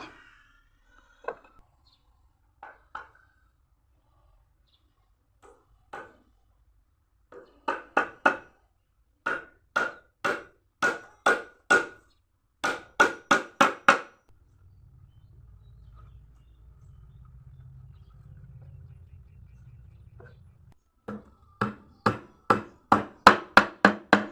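Nails are hammered into a homemade fish trap for snakehead and catfish: sharp, close knocks, first sparse and uneven, then quick regular runs of blows, with a low rumbling pause between bursts.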